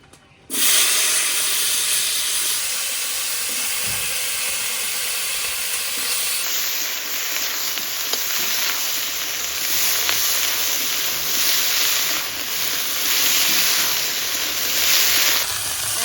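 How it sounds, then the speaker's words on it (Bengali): Eggplant slices lowered into oil left from frying fish, starting with a sudden loud hiss that holds as a steady, close, even sizzle for the rest of the stretch, with no voices. "মাছ ভাজার তেলে হালকা করে বেগুনটা ভেজে নেবো।"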